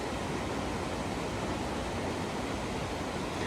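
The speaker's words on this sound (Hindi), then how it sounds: "जगह अच्छी है क्योंकि पानी की आवाज़ है" Flowing water rushes near a roadside market stop, a dense continuous wash of noise that stays loud and even throughout, with no voices.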